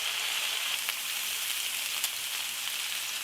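Pork sizzles and crackles steadily in a hot pan, a bright, close frying hiss with scattered small pops, continuous and without talk.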